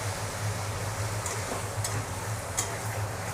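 Hot oil sizzles steadily in a pan of fried sarputi fish as a paste of ground ginger, cumin, chili powder and coriander powder cooks, with a few soft stirring scrapes; close and continuous, no talking.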